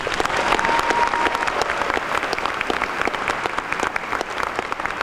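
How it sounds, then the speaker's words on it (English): A graduation audience at John Glenn High School's 2017 ceremony applauds the staff, with dense, steady clapping from a large crowd that holds at an even volume for about five seconds. "Please give them a round of applause."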